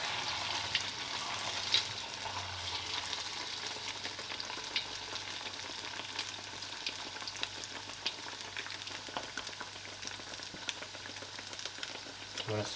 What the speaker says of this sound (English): And this is how you want to fry it.